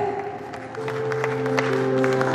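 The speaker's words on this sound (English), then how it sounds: "Please keep on clapping, that will encourage her." Parents keep clapping for a pupil at a school prize distribution ceremony, a continuous dense patter of hands at moderate volume over a steady background hum.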